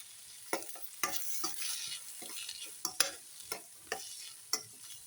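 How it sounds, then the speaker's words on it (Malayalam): Vegetables being stirred and tossed in a hot frying pan while cooking corn upma, with a steady sizzle and repeated sharp scrapes of the spoon against the pan at an uneven rhythm, close and alone with no talk. "അപ്പോൾ എല്ലാം നല്ലോണം മിക്സ് ചെയ്യുക"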